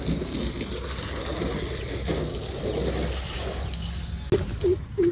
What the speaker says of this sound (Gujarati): અહીંયા જો પાણીનું આ ગાડીનું વોશિંગ કરવાનું ચાલુ છે